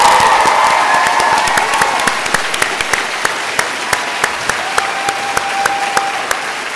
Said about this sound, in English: please join me in giving a massive round of applause for Firefly